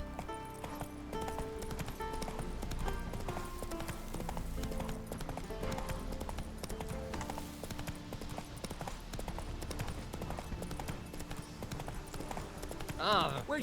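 Roach, the horse in The Witcher 3 video game, gallops with steady rapid hoofbeats throughout, under game music and spoken dialogue, with a brief whinny near the end.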